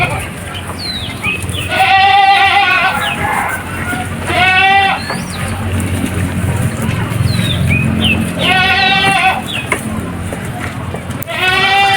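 Goats and sheep bleat on a farm where Australian breeding goats are raised, with several short stuttering bleats from near animals spaced across the clip over a steady background murmur.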